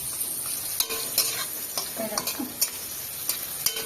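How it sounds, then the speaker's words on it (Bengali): Pointed gourd (potol) fries in a village kitchen pan with a steady close sizzle, while a utensil stirs and scrapes against the pan in short repeated strokes. "এটা পটল ভাজবো"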